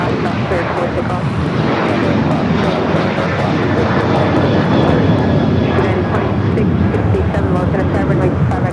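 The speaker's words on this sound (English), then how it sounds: "This takeoff is Alaska Airlines 1418 taking off to Guadalajara on the 737-800." An Alaska Airlines Boeing 737-800 takes off from LAX, its jet engines giving a loud, continuous broadband roar that holds steady throughout, heard from the airport nearby.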